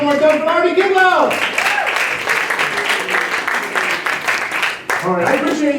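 An audience breaks into loud applause for a comedy juggler after he is welcomed to the stage, lasting several seconds. A voice talks over the start and end of the clapping.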